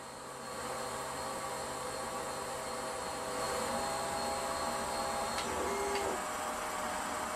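Steady mechanical whir of a home-built Gatton CNC machine as its Z, Y and X axes travel to their home positions, a continuous loud drone with a few faint clicks and no talk.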